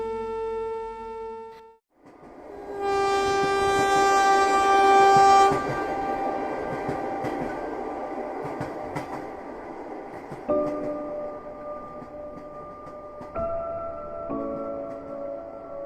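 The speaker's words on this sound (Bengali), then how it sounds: "ট্রেন তো সেখানেই যাচ্ছে" A passenger train runs close by with a continuous heavy rumble and clatter, and long horn blasts sound early on and again near the end over the steady roar.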